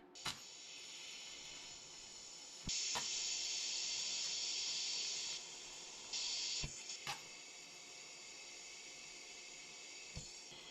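Welding legs onto a cheap hot tent stove (GBU Tent Stove) gives a steady, close hiss with a faint crackle. The level steps up twice, and a few sharp clicks stand out.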